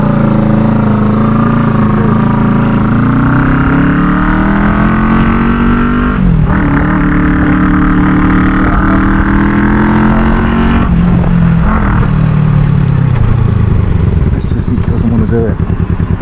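Kawasaki EN450 bobber motorcycle with a cold engine revving toward 4,000 rpm, a loud, close, sustained drone whose pitch climbs slowly, dips and rises again.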